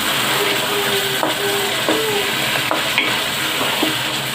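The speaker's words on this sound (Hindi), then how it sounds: "और ऑयल के अंदर गोश्त को अच्छी तरह से भून लेंगे।" Beef frying in oil with garam masala, coriander powder and red chilli, a loud steady sizzle close up with repeated stirring and scraping strokes in the pan.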